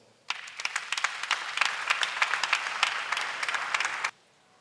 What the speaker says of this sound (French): Joseph, sous vos applaudissements.